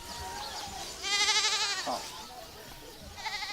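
A goat bleats loudly and close in a wavering, quavering cry lasting under a second, with a shorter bleat near the end, amid faint background voices.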